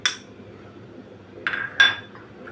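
Metal utensils clink sharply against a wok as spices go in, three bright separate knocks: one at the start and two close together near the end, over a quiet kitchen background.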